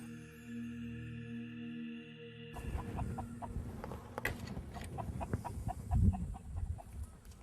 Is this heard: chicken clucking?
yes